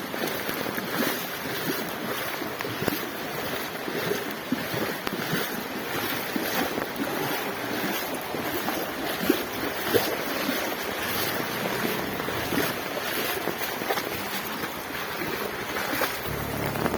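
Floodwater surges around a house during heavy rain. The rushing, wind-blown roar is broad and continuous and close to the microphone throughout.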